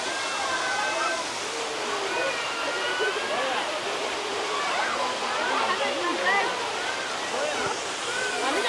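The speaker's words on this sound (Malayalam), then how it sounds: "ഇതാ ഇങ്ങനെ ഒരു വഴി റോഡിലൂടെ വെള്ളം ഒഴുകുന്നുണ്ട്." Water flowing across a road near the Wadi Dafta waterfall at Masafi, a loud, constant rushing wash close by, with a voice talking over it throughout.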